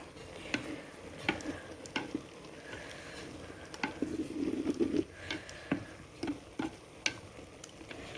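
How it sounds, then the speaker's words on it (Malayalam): A spoon scrapes and turns cooked jackfruit in a pot, Kerala home style, in quiet, fairly regular strokes over a faint simmer. "ചക്ക നമുക്കൊന്ന് ഇളക്കിയിട്ട് കൊടുക്കാം."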